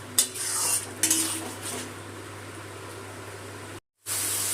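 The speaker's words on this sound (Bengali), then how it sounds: "গ্যাসটা বাড়িয়ে দিয়েছি, দিয়ে টমেটো বাটাটা ভালো করে কষিয়ে নিচ্ছি।" Tomato paste cooking over a high gas flame, with a few metal scrapes and clinks of the spoon against the pan at the start, then a quiet steady sizzle and a brief dropout near the end.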